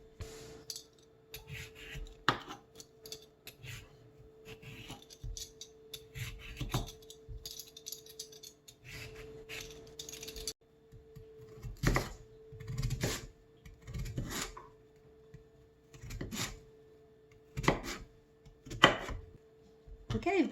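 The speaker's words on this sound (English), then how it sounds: "Okay, potatoes are peeled." Potatoes being peeled and trimmed for potato salad: quiet, intermittent scraping and cutting strokes at close range over a low steady hum, with soft talk at times.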